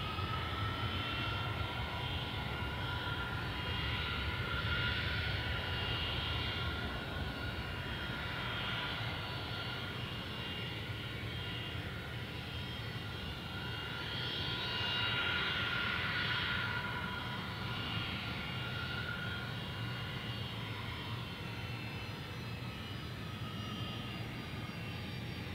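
Alliance Airlines jet departing Perth Airport on runway 03, a broad sustained engine roar that holds steady throughout, moderately distant with no voices.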